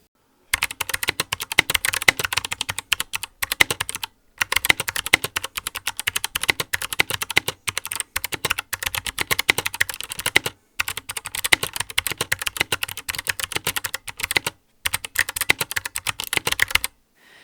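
Fast, clacky typing on a mechanical keyboard sitting on a desk, close and loud, in long runs of keystrokes broken by short pauses.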